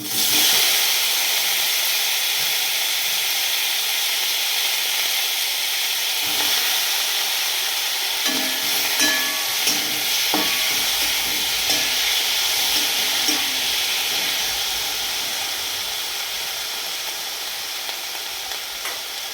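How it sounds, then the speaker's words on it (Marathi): Onion frying in hot oil in a pan, a loud continuous close sizzle and hiss with light stirring scrapes partway through, no voices. "तेलामध्ये हा कांदा फ्राय केला आहे"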